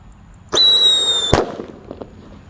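A Happy Power 3 firework lit while buried in the ground gives a loud, piercing whistle for under a second, ending in a sharp bang, then faint crackling trails off outdoors.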